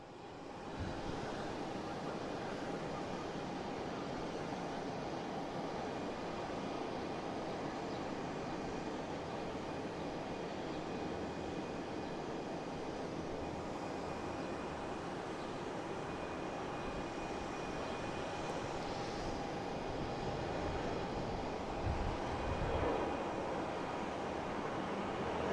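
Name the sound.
JetBlue airliner arriving from West Palm Beach at Boston Logan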